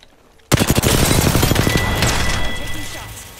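Rapid video game gunfire bursts out suddenly after a quiet start: a dense, fast string of close, loud shots that rings on and slowly fades.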